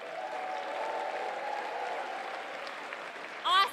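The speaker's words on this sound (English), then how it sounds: "By a round of applause, how was your intermission?" An audience at a live talk event claps in a moderate, even round of applause that carries on steadily and then gives way to a voice at the end.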